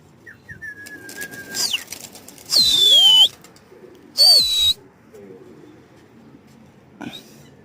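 Iraqi clean-legged tumbler pigeons give soft coos, and two loud bursts of wing flapping come from birds taking off nearby. Shrill whistled tones and a few light knocks are heard outdoors.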